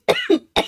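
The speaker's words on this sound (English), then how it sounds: "I apologize for having a coughing fit" Three sharp, close coughs in a rapid cluster during a morning fit, loud and dry with brief gaps between them, with no talk.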